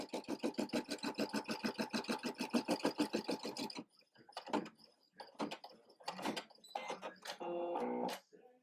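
A Brother PE550d embroidery machine stitches an appliqué tack-down, a fast, even mechanical stitching rhythm for a few seconds, followed by irregular clicks, thumps and a short whirring hum, close and fairly quiet.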